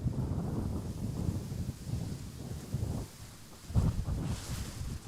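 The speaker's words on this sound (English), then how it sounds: "You guys can also hear the winds picking up a little." Wind buffets the microphone in gusts outdoors at Schiphol Amsterdam Airport. A loud, low rumbling roar rises and falls unevenly, with a brief lull near the middle and no voices.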